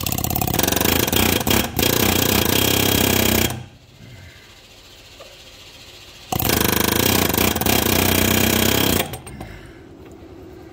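Loud pneumatic air hammer bursts in two long sustained runs separated by a quieter pause, with a short trailing burst near the end, while removing an engine from a John Deere 345 with a seized PTO clutch.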